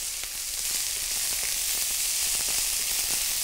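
Chopped onion sizzling steadily in a hot pan, a loud continuous hiss with faint crackles and occasional stirring scrapes.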